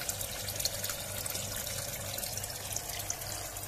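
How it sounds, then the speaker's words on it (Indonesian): Water pours steadily from the outlet of a Hikari PSP 2300Z submersible pump, splashing down about a metre into a pond, a continuous soft rushing trickle heard alone. "Kucuran airnya deras, boy."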